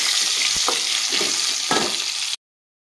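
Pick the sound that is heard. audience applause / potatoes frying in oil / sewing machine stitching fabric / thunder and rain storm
potatoes frying in oil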